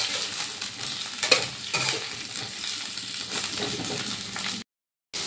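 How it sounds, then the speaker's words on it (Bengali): Pumpkin pieces fry in hot oil with a steady sizzle, while a utensil scrapes and stirs them in the pan. Scrapes and clinks break through at intervals, and the sound cuts out briefly near the end. "এবার আমি কুমড়োগুলো ভালো করে ভেজে নেব।"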